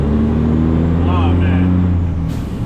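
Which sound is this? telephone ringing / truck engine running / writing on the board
truck engine running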